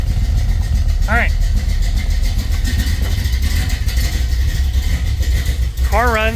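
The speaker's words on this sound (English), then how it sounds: "Car runs, sounds good." A car engine idles steadily and loudly after its battery has been moved to the trunk with a kill switch fitted, a constant low rumble with brief voices breaking in twice.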